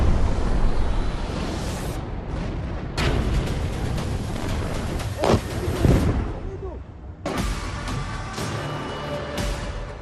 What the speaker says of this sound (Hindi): बीच बीच में जो धमाका सुनते हैं वो आर्टिलरी की